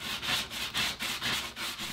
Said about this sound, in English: I'm just sanding away at the paint and it finally did come off